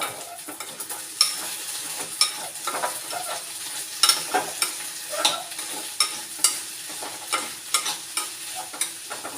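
Spicy masala for chapati stirred in a hot pan, a close run of spatula scrapes and clicks at an irregular pace over a soft continuous sizzle, with no talking.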